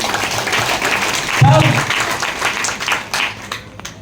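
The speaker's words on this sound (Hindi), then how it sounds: "ताली बजाइए।" A seminar audience in Jabalpur breaks into applause, a dense wash of clapping from many hands that swells near the middle and carries on steadily, with some voices mixed in.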